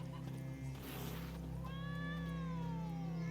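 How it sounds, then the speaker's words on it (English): A cat meowing in a fantasy video game, a drawn-out, wavering call over a steady hum of game background sound, fairly faint and with no talk. "Cat! Can I pet the cat?"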